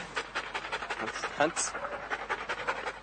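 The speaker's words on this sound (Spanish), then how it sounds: "El perro simplemente con una pasada de su olfato en cuestión de 10-15 segundos simplemente detecta si hay o no hay." Drug-sniffing dog panting close by, rapid rhythmic breathy huffs repeating steadily throughout, with a brief squeak in the middle.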